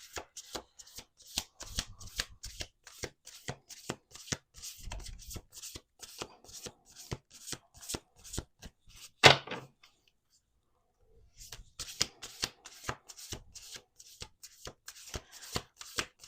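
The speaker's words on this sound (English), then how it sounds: "We're going to do 2 more shuffles." A deck of playing cards shuffled on a table, with rapid rhythmic riffles and bridge snaps repeating steadily, one loud snap, then a pause before the shuffling resumes, close and clear with no talking.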